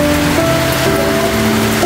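Heavy rain pours over a flooded backyard, a dense, constant hiss of drops and running floodwater close by, with a faint tonal hum running underneath.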